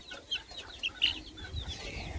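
A young rooster chick under a month old gives a few short high peeps and clucks over faint low background rumble, close by and without speech.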